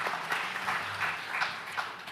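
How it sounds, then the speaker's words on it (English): Warm audience applause welcoming a speaker to the stage at a future-report forum, heard as a steady, fairly faint wash of clapping that rises and falls gently and continues throughout. "Please join in welcoming her with a big warm round of applause."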